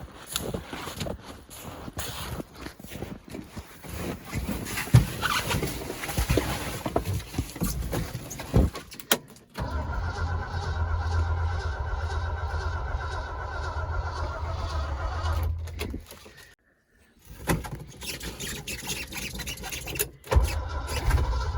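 A 1971 Ford Highboy with no choke cable fitted cranks over on a below-zero cold start, the starter churning in long labored bursts broken by short pauses as the battery weakens, without catching.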